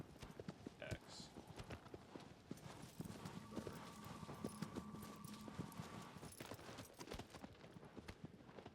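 Horse hooves clip-clopping in the video game Shadow of the Colossus, a quick steady trotting rhythm at moderate volume, with a player talking over it and a brief whinny early on.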